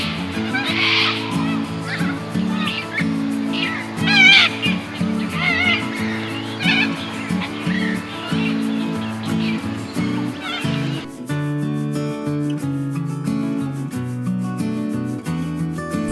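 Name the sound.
corellas calling in a tree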